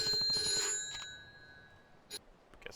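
A phone rings in the video game Yakuza 3, with a bright electronic trill followed by a quieter stretch and a few short chirps, with no one talking.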